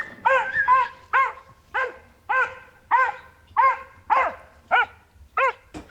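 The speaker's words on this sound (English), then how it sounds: "He was barking this week at a dog on the other side of the road." A Scottish Terrier barks about ten times in a steady, fairly close series of sharp, separate barks, with brief gaps between them and no talking.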